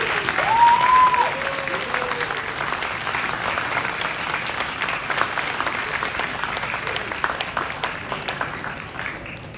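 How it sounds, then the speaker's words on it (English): Audience applause at a Miss Universe Philippines press presentation, a loud sustained crowd clapping that holds steady throughout, with faint voices and a brief whistle near the start. "Let's please give a round of applause to Jonas Gafud."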